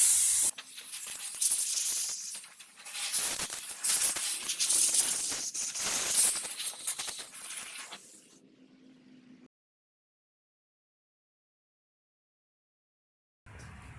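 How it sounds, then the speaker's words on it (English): Compressed air blowing out the brush roller cavity of a Bissell vacuum, a loud hissing blast for about eight seconds that tapers off, followed by near silence. "I'm going to take some compressed air and blow this thing out a little bit."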